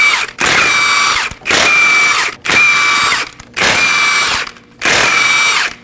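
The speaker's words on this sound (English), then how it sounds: "Using a 21mm socket, we're going to go ahead and remove the lug nuts." A power tool with a 21mm socket spins off lug nuts on a Nissan Armada, five loud whirring bursts of about a second each, separated by short pauses.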